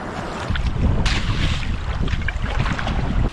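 Wind blows over an icy river while a boat drifts downstream, producing loud rushing gusts and rumbling buffeting against the microphone that jump in strength after the first half-second and stay strong and steady.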